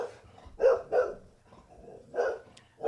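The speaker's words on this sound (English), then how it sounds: "The dog is going nuts." A single indoor dog lets out a rapid string of loud barks, two close together, then a pause, then two more, over a low background hum with no speech.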